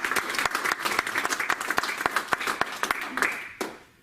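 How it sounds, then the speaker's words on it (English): Conference audience clapping for a speaker, a crowd of sharp, steady claps at close range that thin out and fade toward the end. "Can we give him a round of applause?"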